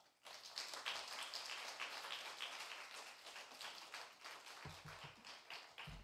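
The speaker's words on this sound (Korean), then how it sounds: "우리 목사님 나오실 때 우리 환영의 박수로 인사하겠습니다." A congregation at a Sunday worship service applauds to welcome a pastor to the front: dense, rain-like clapping from many hands starts after a brief pause and holds steady and fairly loud to the end.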